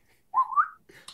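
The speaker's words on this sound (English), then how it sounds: "I'm going to whistle." A single person whistles a short rising two-part tune, clear and close, followed by a brief rustle and thump.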